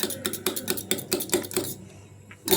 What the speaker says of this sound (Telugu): ఇది వేడేసరికి మన ఎగ్ బీట్ చేద్దాం.